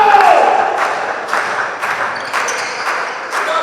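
Audience clapping together on cue at a practical warm-up session of a national training day, a dense crowd-wide patter with a few louder accent bursts, filling the room steadily for the whole stretch.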